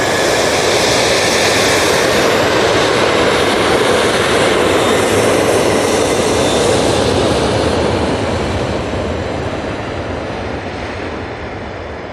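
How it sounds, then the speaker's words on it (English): An Emirates jet airliner passes overhead near Manchester Airport, a loud, steady broadband engine roar that holds strong and then slowly fades toward the end. "Emirates passing over Cheadle."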